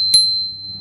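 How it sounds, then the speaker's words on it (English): A single bright ding from a bicycle bell mounted on a steel-frame commuter bike, struck once and ringing on as a clear, sustained tone that slowly fades. "Bell"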